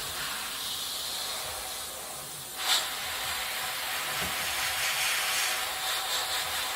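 An airbrush sprays paint onto a Tamiya 1/32 F-16 model, a faint, steady airy hiss that continues throughout at low level with a brief sharper burst partway through.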